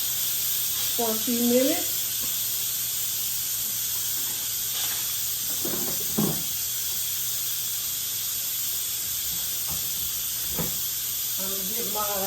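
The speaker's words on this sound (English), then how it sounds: "I am going to release this pressure" An Instant Pot cooking a pot roast releases its pressure in a steady, unbroken steam hiss that runs the whole time, with a person talking briefly over it.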